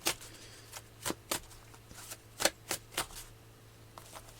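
Tarot cards are shuffled and drawn close by, giving a series of sharp papery flicks and slaps at irregular intervals, about a dozen distinct snaps over a faint hum.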